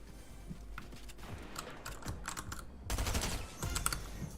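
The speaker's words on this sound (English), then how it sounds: "Stop shooting at me!" Rapid video game gunfire rattles in clustered bursts, fairly faint and mixed with clicky keyboard-like taps, with heavier shots toward the end and no talking.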